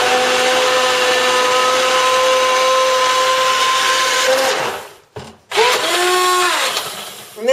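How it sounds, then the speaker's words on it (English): A blender blending hot soup of pumpkin, sweet potato and chickpeas whirs loudly and steadily, its motor pitch holding, then briefly cutting out twice before revving back up and winding down. "So I'm going to give it a quick blend. Hopefully it won't make a lot of noise"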